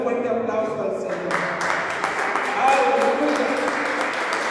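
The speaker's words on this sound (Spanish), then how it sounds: "Dale un fuerte aplauso al Señor." Congregation in a church service claps together, the applause building after a second into a steady, dense patter of many hands, mixed with voices and some singing or speech over it.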